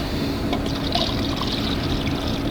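300 milliliters of photographic fixer poured straight into a film developing tank: a steady, close trickling and splashing of liquid throughout, with no talk.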